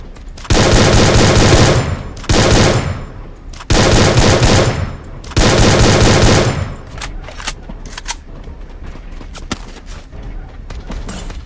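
Video game gunfire rattles in three long, loud bursts of rapid automatic shots, then gives way to scattered single shots and quieter game noise.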